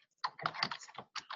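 Quick, close keystrokes on a computer keyboard come in short irregular bursts of clicks with brief pauses between them.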